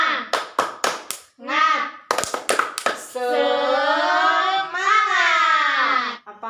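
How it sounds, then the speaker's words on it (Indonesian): Fifth-grade pupils and their teacher perform the 'tepuk semangat' clap chant, with quick bursts of sharp, rhythmic group clapping alternating with loud, drawn-out chanted shouts from the class. "Yuk kita tepuk semangat dulu."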